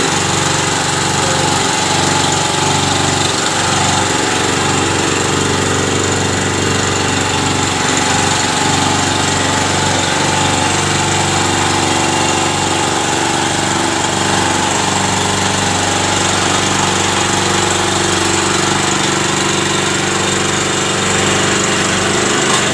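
A petrol generator engine runs loud and steady throughout on a repair bench, its drone constant with a rough, mower-like buzz and no voices.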